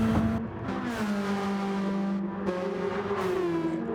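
Mini race cars lapping the Tokyo Expressway Central circuit in a racing video game drone with steady, high engine notes that shift pitch as they round the final corner, loud and continuous.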